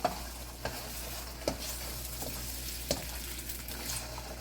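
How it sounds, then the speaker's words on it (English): Beef fried rice sizzles steadily in a hot wok, a continuous close frying hiss broken by sharp spatula scrapes and taps about every second and a half, with no talking. "Hear that sizzle"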